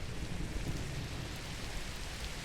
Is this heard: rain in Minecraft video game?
yes